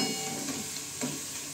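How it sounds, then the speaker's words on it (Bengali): Potatoes frying in a pan while being stirred and turned, a steady close sizzle with a couple of brief scraping stirs, with no voices over it. "এই দেখো এগুলো ঠিক একইভাবে আমি এইভাবে উলট পালট করে এগুলোকে ভেজে নেব।"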